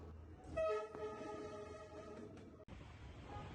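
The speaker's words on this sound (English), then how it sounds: "After this we went to Train Street to see the trains go past" A train rolls along Train Street in Hanoi, sounding a strong harmonic horn blast over the rumble of passing railcars, then the horn stops abruptly while the rolling noise continues.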